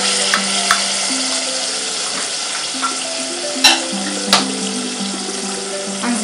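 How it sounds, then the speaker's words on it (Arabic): Grated garlic and onion sautéing in about half a glass of oil with a pinch of salt, giving a loud, steady sizzle with a few sharp spoon clinks against the pan. "انا درت نص كاس ديال الزيت وزدت هذيك الثومه والبصله اللي محكوكين. غادي نزيد شويه د الملحه وغنشحرهم"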